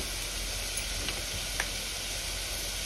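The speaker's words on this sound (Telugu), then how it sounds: "వీటి ఇప్పుడు కాసేపు వేగనివ్వాలి." Ginger garlic paste with coriander and cumin powders frying in a pan for tomato biryani gives a steady, soft sizzle and hiss with a few faint stir clicks, alone and fairly quiet.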